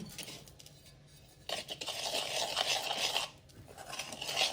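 Thick gram flour batter for boondi is stirred in a bowl, with wet scraping and rubbing strokes that come in bursts, close and fairly quiet, without talk.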